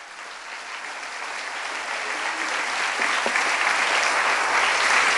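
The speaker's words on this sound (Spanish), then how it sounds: "Dale palmas al Señor." Congregation at a Friday church service claps together, the dense applause swelling gradually louder and fuller over several seconds, with no talk on top.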